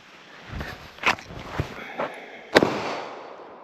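Several gunshots at an outdoor range aimed at steel and USPSA targets, five sharp reports spaced about half a second apart, fairly close, with a brief ring after the last shot.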